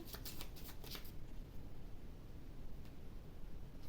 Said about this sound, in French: je vais tirer une dernière carte pour vous avec le petit oracle des anges